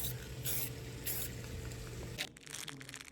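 An aerosol can sprays clear coat onto a VW Jetta wheel cover in hissing bursts, starting and stopping several times, close but fairly quiet.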